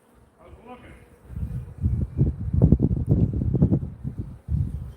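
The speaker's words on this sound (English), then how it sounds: "you can pretty much guarantee if you run into a feral hive, it's Africanized. They're killer bees." Africanized killer bees swarm around a feral hive, a dense buzzing of many insects that swells and ebbs in close bursts, with faint speech at the start.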